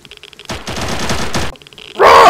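Rapid automatic gunfire from the STALKER roleplay video game, two sustained bursts of close, loud shots separated by a short pause, followed by a harsh loud noise at the end.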